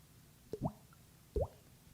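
A voice imitates a water drop, making two quick, close mouth-popped plinks about a second apart, each a short liquid blip against a quiet background.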